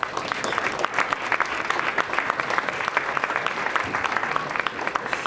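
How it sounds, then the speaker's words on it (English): Dense, steady applause from an indoor audience at an ice hockey honors speech in Harlem, many hands clapping at once for about five seconds with no voices on top. "I wish you all would applaud yourselves for that"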